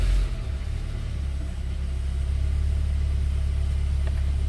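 A Peugeot 307 SW with an antipollution fault starts its engine and settles into a loud, steady, low idle rumble, heard up close with no talking.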